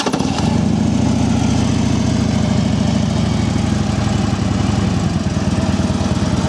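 A used Harley Davidson Ultra Limited FLHTK touring motorcycle with 29,394 miles idles loud and close, a steady, throbbing low rumble that holds evenly throughout, with no talking.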